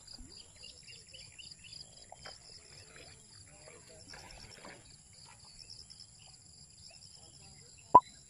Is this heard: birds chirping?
yes